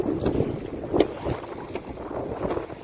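Wind gusting over rough, choppy water at the Gadhki dam, with buffeting microphone noise and soft lapping wave surges, fairly faint and unbroken by talk.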